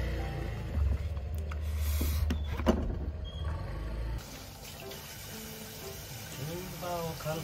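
Cucumbers rinsed under running water at a kitchen tap: a steady rushing stream with splashing and handling clatter, then a quieter flow, with a voice talking over it.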